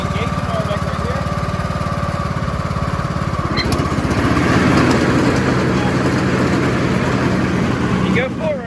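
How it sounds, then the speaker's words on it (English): Craftsman T2500 lawn tractor engine running steadily up close with the mower deck engaged, a continuous droning hum that swells slightly midway, with a person talking over it. "we're going to engage the mower deck right here"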